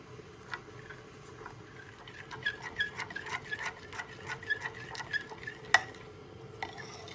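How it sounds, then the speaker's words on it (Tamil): A spoon stirs melted chocolate ganache for a salted caramel chocolate fudge cake, giving soft repeated scraping and light clinks against the bowl at an uneven rhythm, close and fairly quiet. "இப்போது நான் இந்த கரண்டியினால் இதனை கலக்கப் போகின்றேன்"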